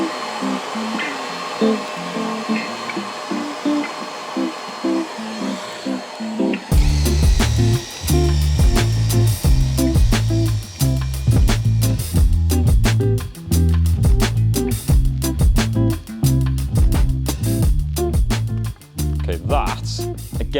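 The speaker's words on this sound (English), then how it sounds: "Now it's onto the wet vac." A wet vac with a drill brush attachment cleaning a Civic coupe's carpet: quiet background noise, then a loud, steady motor whine that starts abruptly and keeps going with rhythmic pulsing scrubbing over roughly the last two thirds.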